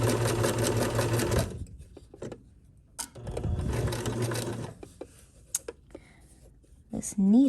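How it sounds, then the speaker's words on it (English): A sewing machine stitches fabric in two steady bursts of motor whir, separated by quiet pauses filled with small clicks and handling noises as the fabric is turned at a corner. "Needle down, presser foot up, turn your fabric, presser foot back down,"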